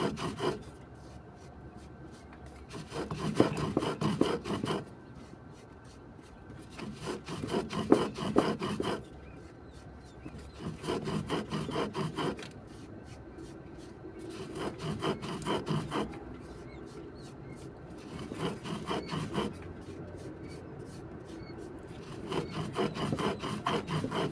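Quail feed is crushed into powder by hand, heard as bursts of close, rhythmic grinding and rubbing strokes separated by brief pauses.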